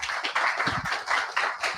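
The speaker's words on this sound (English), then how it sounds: "Please, ladies and gentlemen, big round of applause" A small audience at a media careers event claps for an arriving speaker, a brief, fairly quiet patter of hand claps in uneven bursts.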